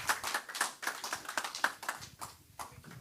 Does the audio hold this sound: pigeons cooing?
no